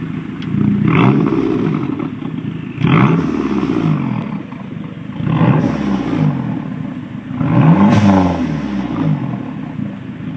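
A car engine revs in four repeated throttle bursts while Sea Foam cleaner is forced through it, each rise and fall loud and close, with rough idling between and no talking.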